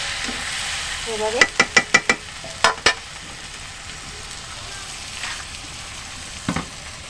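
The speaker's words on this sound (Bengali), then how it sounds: "পেঁয়াজ বাটা দিচ্ছি দিয়ে একটু নাড়াচাড়া করে দিচ্ছি।" Onion paste fries with a continuous sizzle in a pan for chicken kosha, punctuated by a quick run of loud spoon knocks and scrapes as it is stirred, then a few more taps near the end.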